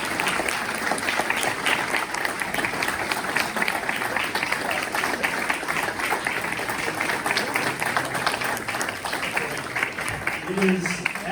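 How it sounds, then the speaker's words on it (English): An audience at a Lincoln-Douglas debate on school choice in Texas gives the debaters a long round of applause, dense and continuous clapping from many hands that holds at an even level for over ten seconds. "I think that we all absolutely should give each of our debaters a great round of applause"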